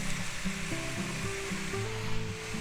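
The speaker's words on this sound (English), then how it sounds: "Now we're going to go ahead and add 8 ounces of mushrooms in there." Canned mushrooms hitting a hot stir-fry pan for sweet and sour pork and vegetables, giving a steady close sizzle with a soft hiss under background music, no voices.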